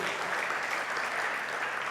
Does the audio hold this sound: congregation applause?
yes